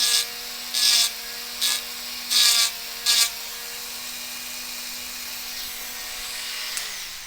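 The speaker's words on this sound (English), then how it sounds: "I'm going to take that off with a Dremel. So I'm going to go ahead and do that now." A Dremel rotary tool grinds weld off a part during a two-stroke motorcycle rebuild, cutting in as several short, loud, high bursts over a steady motor whine that keeps running alone afterward.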